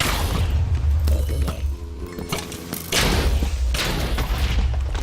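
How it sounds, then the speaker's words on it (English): Explosion in a Minecraft modpack game, heard as repeated loud booming blasts with rumbling low end, a brief quieter gap with ringing debris, then another heavy blast sustaining to the end. "Whoa, that was an explosion."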